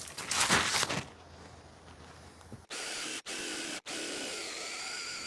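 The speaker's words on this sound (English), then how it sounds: "Then I'll use a 2-inch hole saw" A loud burst of rough scraping noise, a quiet gap, then a power drill running a 2-inch hole saw in steady stretches broken by two brief stops, while building a quail house.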